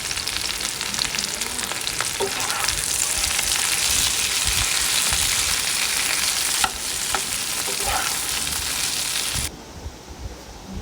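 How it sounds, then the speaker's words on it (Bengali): Oil sizzling and crackling steadily in a pan, a continuous close, loud frying hiss with faint stirring ticks, dropping quieter near the end; setting is a home kitchen preparing onions and garlic for a bharta mash. "এই যে একটা ভাজির সুন্দর সাউন্ড শোনো তোমরা আমার খুব ভালো লাগে"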